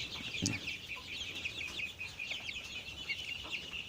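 A crowd of young hybrid layer chicks, about three weeks old, peeps and clucks continuously, a dense chorus of high chirps nearby with no talking.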